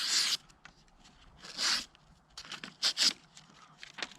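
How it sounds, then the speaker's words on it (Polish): A sharp Ruike LD51 folding knife blade shaves arm hair up close, giving a few short dry scraping rasps spread across the moment with quiet gaps between them, and no voice over them. "Goli łapę."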